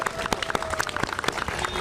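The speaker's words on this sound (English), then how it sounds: "Can we just do one more giant round of applause for all our speakers?" An outdoor crowd at a public library branch groundbreaking ceremony gives a round of applause for the speakers, with sharp, uneven claps coming close and loud.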